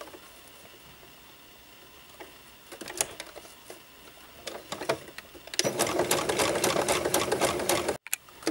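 A sewing machine runs a zigzag stitch joining the two ends of elastic for bloomers, starting with scattered stitches, then settling into a loud, steady close-up mechanical whir before stopping abruptly.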